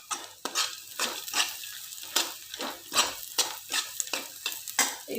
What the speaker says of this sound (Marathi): साधारण 2 मिनिटं असं परतून घेऊया.